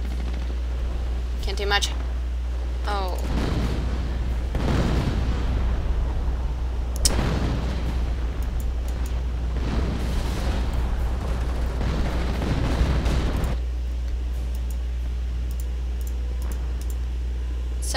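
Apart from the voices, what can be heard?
rifle gunfire in a war video game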